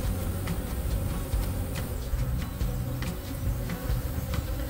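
Honey bees confined inside blocked-off two-frame mating nucs, a continuous close buzzing hum with faint ticks and taps scattered through it, and no voices.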